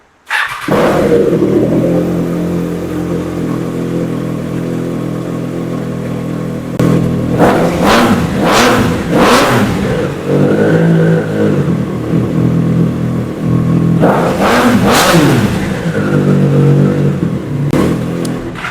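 A Triumph Trident 660 inline-three motorcycle starts up close and loud, settles into a steady idle, then is blipped through several sharp throttle revs that rise and fall, with a couple more bursts near the end.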